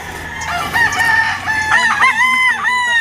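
A red Kelso gamefowl rooster crows loudly and close by, one long harmonic call that rises and wavers, with a short clucking break partway through and no talk over it.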